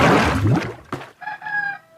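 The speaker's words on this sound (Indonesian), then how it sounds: "Ini ayam ayam mistis bunyi mulu nih." A rooster crows loudly and close by, a harsh rising call followed by a drawn-out tonal crow, alone without talk.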